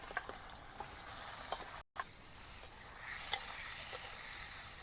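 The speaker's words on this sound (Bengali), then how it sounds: "মোটামুটিভাবে ভেজে নেব চিংড়ি মাছগুলোকে" Prawns frying in hot oil in a wok, giving a soft, steady crackling sizzle with occasional sharper pops, heard alone at moderate level with a brief dropout partway through.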